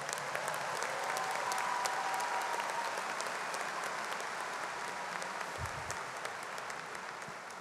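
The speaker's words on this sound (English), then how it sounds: "Let's give these fine men and women another round of applause." Audience at a university fall commencement ceremony applauding steadily, a dense wash of clapping that holds at an even, moderate level before slowly tapering.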